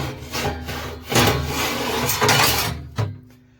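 A metal fire grate is scraped and fitted into a Chud Box cooker, giving a series of loud rubbing, grating and sliding bursts with a sharp knock near the end.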